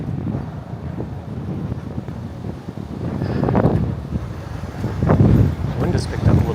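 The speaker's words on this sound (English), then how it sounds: "Wind has picked up a little bit." Wind gusting against the microphone on a walk through New York City, a loud buffeting rumble that swells and fades in waves, with a voice talking faintly underneath.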